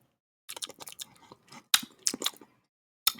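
Doritos chips are crunched and chewed close to the microphone in quick, sharp bursts, with short pauses between bites and a final crunch after a brief silence.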